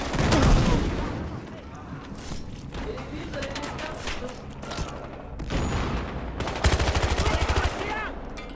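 Gunfire in Battlefield Hardline: bursts of automatic fire and scattered shots crackle in rapid volleys, some close and loud, others distant, with a voice talking over the battle.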